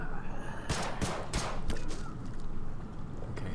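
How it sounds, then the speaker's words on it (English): A rapid volley of sharp gunshots cracks out near the start of a They Are Billions game, followed by a few scattered shots over a steady rumbling background. "they keep getting attracted anyway to my gunshots"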